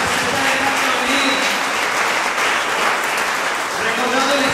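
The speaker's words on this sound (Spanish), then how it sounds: "dan un fuerte aplauso al Rey" Applause from a church congregation during a worship service, a loud, dense wash of clapping that fills the room and holds steady without a break.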